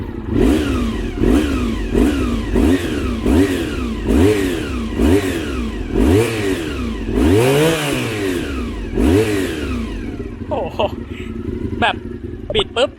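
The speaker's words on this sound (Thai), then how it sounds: "ฟังเสียงคันเร่งดูนะครับ ลองดูที่มือผม" Close, loud throttle blips from a Honda VFR400 motorcycle engine, about eight sharp rising-and-falling revs in quick succession before the engine drops back to idle with a few light clicks.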